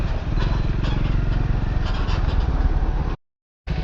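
Triumph Scrambler 400x motorcycle engine and exhaust running steadily and loudly nearby, a continuous throaty rumble that cuts out abruptly near the end before resuming.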